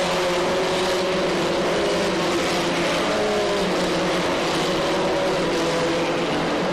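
USF2000 race cars at Watkins Glen heading into the loop at the end of the long straight in 2001, a loud continuous engine drone with overlapping revving tones from several cars, no commentary audible.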